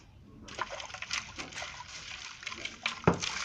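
Water is poured over charcoal to rinse it for a homemade water filter, a close splashing and trickling that starts abruptly and keeps going, with a few louder sloshes.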